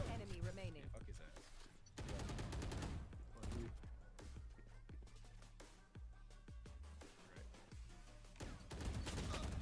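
Rapid gunfire in the Valorant video game rattles throughout in dense repeated bursts, loud and close, with voices talking over the shooting.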